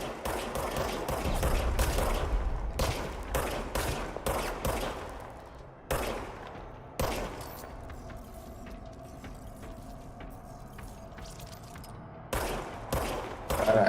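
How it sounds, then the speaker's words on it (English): Bursts of gunfire from a gun in the video game Control crack in rapid volleys, broken by short silences and mechanical clicks, with a quieter humming stretch between the clusters of shots. "now I have a gun"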